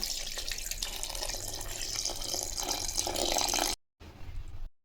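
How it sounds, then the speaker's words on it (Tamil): Water pours steadily from a tap or vessel over mutton in a container for several seconds, a continuous splashing rush that cuts off, briefly resumes, then stops. "இந்த கறி முழுகிற அளவுக்கு தண்ணி ஊற்றிக்கலாம்"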